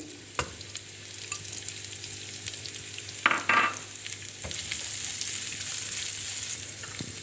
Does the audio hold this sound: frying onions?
yes